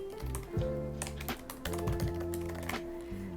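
Someone types on a computer keyboard with quick, irregular keystroke taps, the close clicks set against steady background music.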